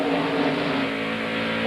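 Busch Grand National race cars roar around Nazareth's oval in a dense, loud, continuous engine drone, several cars bunched together closing on the leader with steady high revs.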